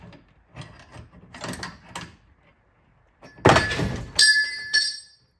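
A screwdriver or pry bar works the trunk lid torsion bar out of a 1964 Pontiac GTO. Soft scraping and shuffling give way to a couple of sharp metallic clanks and thunks with brief ringing near the end.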